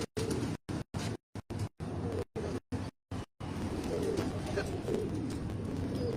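Pigeons of the Dobaz breed and other fancy varieties kept by a pigeon fancier in Tando Allahyar, Sindh, coo in a series of short chopped bursts, then in a steady, fairly close murmur under faint background noise.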